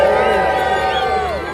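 Spectators at an Arbroath Abbey event cheer for a broadsword fighter, a loud burst of mixed shouts and whoops that tapers off over a second and a half.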